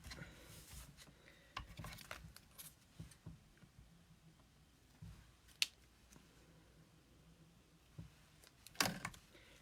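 Scissors trim paper for a Stampin' Up! card, heard as faint, scattered snips and small rustles at close range. The strongest snip comes near the end.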